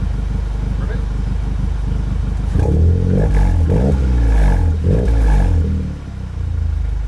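A VW Polo GTI engine runs smoothly after a new PCV valve is fitted. A steady close idle rises into several revs with a deeper, throatier tone, then drops back to idle.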